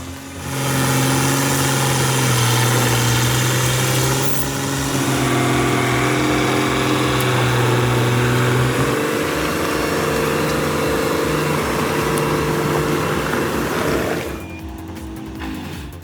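Bandit 21XP wood chipper with a 275 horsepower Cummins engine runs loud and steady with a deep droning hum, its pitch shifting slightly midway, then the load drops near the end.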